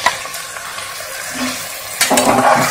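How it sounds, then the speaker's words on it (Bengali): Rice and mung dal for khichdi are fried and stirred in a pan: a steady close sizzle with soft scraping strokes, swelling into a louder burst of frying and stirring near the end. "চাল ডাল সব একটু ভেজে নেব।"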